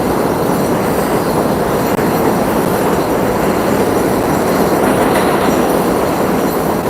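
A train rumbles steadily past at close range, a dense continuous roar of wheels on rails with faint metallic squeal throughout.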